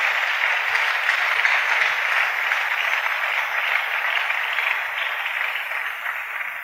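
A church congregation applauds together in a steady, dense wash of clapping that holds at an even loudness for several seconds and eases only slightly toward the end.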